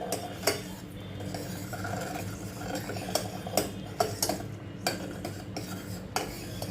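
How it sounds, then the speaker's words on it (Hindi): A spoon stirs and sautés spices with tomatoes in a pan, repeated sharp scrapes and taps of utensil against metal over a low sizzle, irregular strokes close by, no talking. "इन सब मसालों को टमाटर के साथ अच्छी तरह से मिक्स करके थोड़ा सौते करूँगी"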